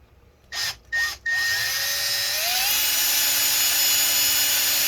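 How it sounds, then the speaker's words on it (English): Small drill biting into a seized screw on an HP Envy 17t laptop, two short whining bursts followed by a steady high-pitched whir that holds to the end, close and fairly loud. "I'm going to drill it some more until we can completely remove it."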